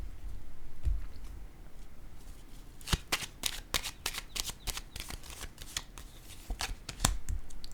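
Playing cards handled and laid down during a reading, a quiet start giving way to a rapid run of crisp snapping and flicking card sounds, close and clear with no talk.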